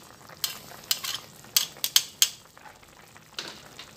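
Buffalo wing sauce bubbles and simmers in a pan, giving a low background sizzle broken by about half a dozen sharp clinks and scrapes of a utensil against the pan, spaced unevenly.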